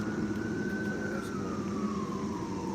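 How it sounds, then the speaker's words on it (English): An ambulance siren sounds at a distance as it passes, one long wailing tone that slowly falls in pitch over steady traffic noise, with no talking. "Oh, ambulance coming."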